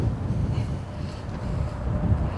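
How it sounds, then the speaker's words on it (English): Steady wind buffeting a microphone outdoors on a golf course, a low, continuous rumbling gust with gentle swells and no speech. "Wind is picking up."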